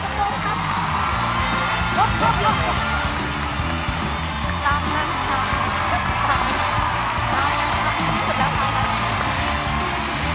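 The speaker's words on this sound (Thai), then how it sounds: "ขอเสียงปรบมือดังๆอีกครั้งนะครับสำหรับคุณแตงโมคุณนัทและคุณกิตครับ" A live studio audience at The Voice Thailand, a televised singing competition, keeps up loud, continuous cheering with whoops and yells, a dense crowd roar that runs steadily from start to finish.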